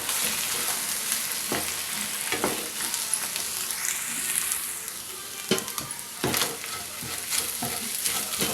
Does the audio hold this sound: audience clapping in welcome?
no